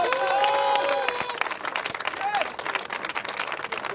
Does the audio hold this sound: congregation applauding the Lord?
yes